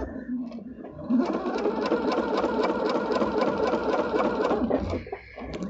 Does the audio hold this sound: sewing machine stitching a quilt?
yes